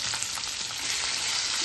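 Capsicum sautés in hot oil with salt, giving a close, even hiss of frying with soft crackles and light stirring, no voices.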